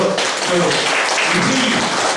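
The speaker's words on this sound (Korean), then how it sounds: "박수 한번 쳐주십시오" Attendees applauding at a Korean shuttle bus workers' union general assembly, a loud, continuous burst of clapping from a roomful of people, with a faint voice underneath.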